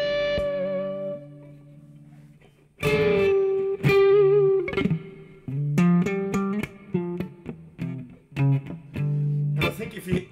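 An electric guitar plays through an amp set to high gain with reverb added, giving distorted sustained notes and chords after an opening held tone, with short breaks between phrases and ringing decays.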